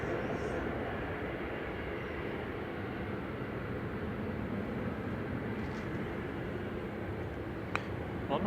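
A 30-year-old Boeing 757-200 jet takes off from runway 05 left at Manchester Airport, a steady, fairly distant low roar that holds evenly throughout with no voices over it.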